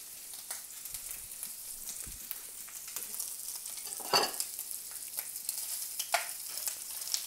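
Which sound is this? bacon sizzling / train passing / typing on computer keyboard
bacon sizzling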